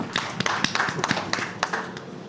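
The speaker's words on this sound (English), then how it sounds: "Let's give her a round of applause." Scattered applause from a small audience at an entrepreneurship week evening event, a handful of separate, uneven claps spread over a couple of seconds rather than a full ovation, with faint background murmur.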